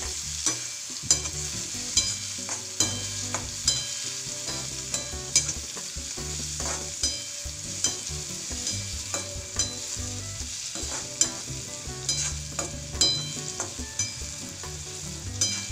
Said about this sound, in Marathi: त्याच्यामध्ये हे तळलेले बटाट्याचे काप टाकू आणि याला चांगलं परतून घेऊ.